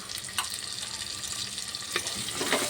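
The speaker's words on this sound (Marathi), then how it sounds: "आणि ते पण व्यवस्थित परतून घेणार आहे" Green peas and capsicum sautéing in oil in a pan for pav bhaji, a dense close sizzle with a few scraping stirs, no voices.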